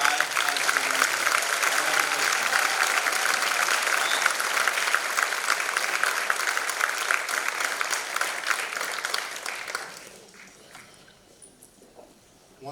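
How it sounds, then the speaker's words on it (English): Sustained applause for 2025 high school graduates at a church graduation ceremony, a large crowd clapping steadily for about ten seconds before fading out to near silence. "A huge round of applause for all the 2025"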